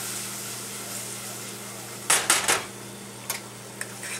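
A spoon stirs a pot of Ghanaian corned beef stew with jalapeno and hot sauce, giving a low simmer under a low hum, then a cluster of metal scrapes and clinks with a couple of lighter taps afterward.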